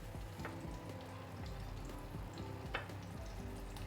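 Chopped onions frying in hot oil in a pot give a faint, steady low sizzle that runs unbroken, with a few soft stirring clicks and no talk.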